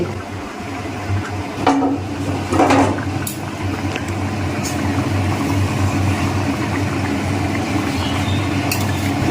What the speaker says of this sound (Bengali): এই যে মাংসটা এখন ফুটছে